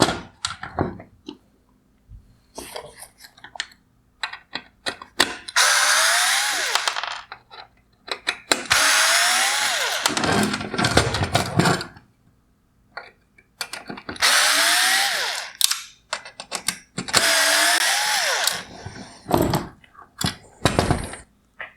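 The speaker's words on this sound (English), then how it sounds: "remove the T20 screws holding in the upper projector mount" A power driver spins out T20 Torx screws from the upper projector mount of a 2016-2019 Mercedes-Benz GLS550 OEM LED headlight, with several loud whirring bursts of a few seconds each, separated by short clicks and pauses.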